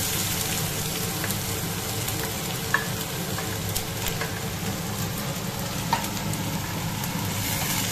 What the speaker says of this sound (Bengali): পেঁয়াজটাকে আমি এখন ব্রাউন কালার করে ভেজে নেব।